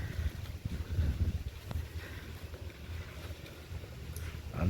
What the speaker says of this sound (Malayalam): ബോട്ട് ഇത് പൂത്തോട്ട ഭാഗത്തേക്ക് പോകുന്ന